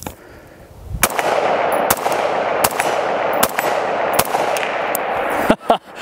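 Mark 18 AR-15 carbine with a 10.3-inch barrel and carbine-length gas system firing outdoors, about eight loud, sharp shots at a steady pace roughly two-thirds of a second apart, each followed by a ringing echo.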